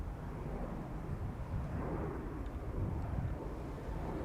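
A United Boeing 787-8 Dreamliner lined up for departure at Schiphol Airport, a steady low rumble of jet engines heard from a distance, broad and continuous without a distinct peak.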